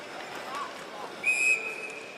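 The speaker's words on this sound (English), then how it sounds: "And so we do get a whistle." A referee's whistle blows once at an ice hockey game, a single clear shrill tone over faint arena crowd noise.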